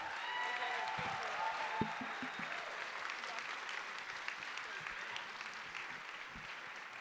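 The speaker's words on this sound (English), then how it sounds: "Give him a round of applause." An audience at a film night breaks into a long round of applause, a steady wash of clapping from a crowd, moderately faint and slowly tapering, with voices murmuring underneath.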